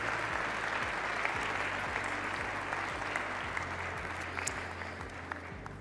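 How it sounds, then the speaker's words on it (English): Sustained applause from a large audience fills a hall at a Saudi-US investment forum, steady and dense throughout, with a low rhythmic thumping underneath and no talk over it. "a big round of applause and a deep appreciation for this moment and for our distinguished leaders"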